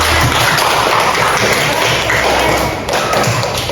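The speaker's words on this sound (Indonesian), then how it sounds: "kita tepuk tangan dulu" A classroom group claps hands together in a dense, continuous burst of applause with thumping taps, loud and close, lasting a few seconds.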